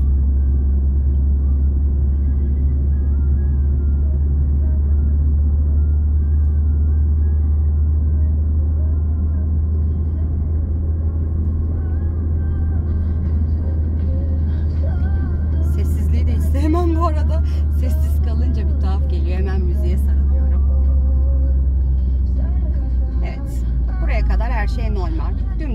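Car rolling slowly downhill on a driving exam course with gentle braking, a steady loud low engine rumble throughout, with a person speaking over it in the second half.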